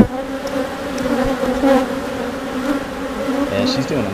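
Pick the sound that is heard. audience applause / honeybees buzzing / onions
honeybees buzzing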